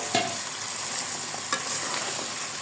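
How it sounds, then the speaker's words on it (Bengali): Drumstick stems fry in an oily mustard spice paste, with a steady sizzle broken by a couple of sharp spatula scrapes against the pan, close and moderately loud. "এবার সজনে ডাঁটাগুলো দিয়ে দিব।"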